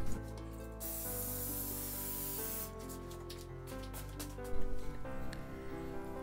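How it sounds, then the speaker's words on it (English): Bursts of non-stick cooking spray hissing onto crumb-topped pork chops over steady background music, short sprays separated by brief pauses. "we spray the top using non-stick spray so the crumbs won't get dry"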